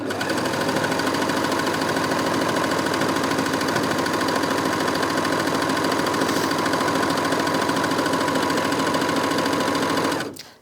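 A Bernette b64 Airlock overlocker stitching fabric at full speed, a loud, close, rapid mechanical whirring hum that runs steadily for about ten seconds before stopping abruptly.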